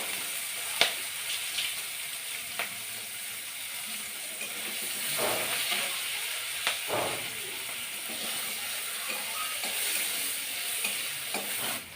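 Onions and green chillies fry in hot oil in a home kitchen pan, a steady close sizzle and hiss broken by occasional scrapes and clinks of a stirring spoon.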